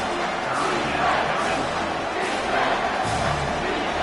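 A stadium crowd roars during a football game, a continuous dense wall of cheering and shouting that holds steady at full volume for several seconds.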